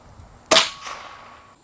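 A single sharp gunshot of steel core ammunition fired at a book outdoors, a loud crack followed by a short fading echo.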